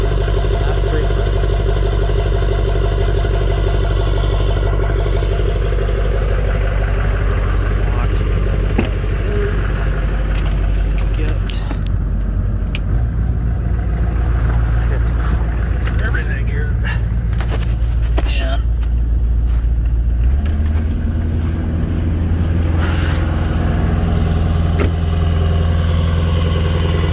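A Duramax LB7 diesel fitted with a resonator instead of a muffler, idling after a cold start: a loud, steady low rumble with sharp clattering knocks, with a voice talking over it at times.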